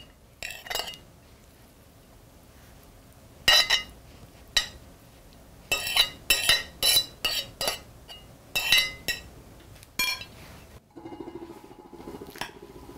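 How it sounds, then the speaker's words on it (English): Salmon is spooned onto a well-tossed salad with black pepper, pineapple and basil balsamic dressing, giving quick bursts of close utensil clinks and scrapes against the bowl, separated by short pauses, with no talking. "once you've got this well tossed, you can spoon your salmon on top"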